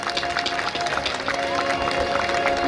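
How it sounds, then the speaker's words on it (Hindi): Devotees at a Shri Ram Katha religious gathering applaud together to welcome an arriving guest, with a dense, steady wash of clapping and crowd murmur that continues for the whole stretch. "आप समस्त श्रद्धालु भक्त तालियों से उनका स्वागत करें।"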